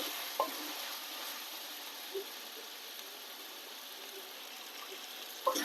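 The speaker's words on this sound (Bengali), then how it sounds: "ভালো করে কষিয়ে নেব।" Chicken is stir-fried (kosha) in a pan with a constant broadband sizzle, broken by a few light clicks from the spatula, with no voices.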